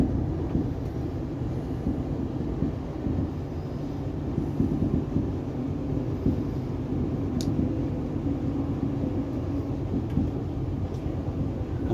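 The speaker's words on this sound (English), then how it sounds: "But I can hear the diesel motors." Low, continuous rumble and rolling hum from inside a carriage of an XPT diesel train, with the diesel motors droning steadily in the background, no talking.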